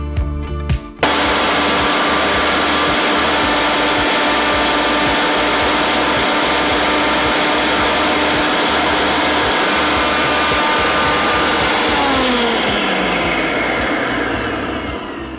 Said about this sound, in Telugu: మిక్సీలో ఫస్ట్ కొంచెం కరివేపాకు, ఆ తర్వాత పచ్చిమిర్చి,